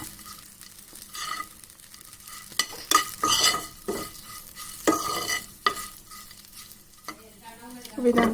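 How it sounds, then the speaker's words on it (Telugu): Green chillies frying in a pan for a chutney, with uneven bursts of loud sizzling and stirring scrapes between quieter pauses, close and without any talking. "నెక్స్ట్ మిరపకాయలు గోలించాలి."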